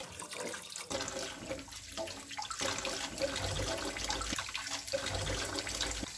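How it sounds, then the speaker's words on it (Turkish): Water draining and running off freshly washed vegetables in a kitchen colander, a steady splashing flow with a few stronger gushes, close by and continuous with no talking. "Şimdi onları süzgüye alıyorum."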